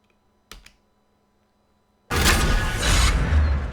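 Fast, dense typing on a computer keyboard as an IP address is entered, a steady run of close clicks after a couple of isolated key taps and a pause.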